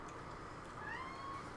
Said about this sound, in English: For such a vicious cat, you make the cutest noises.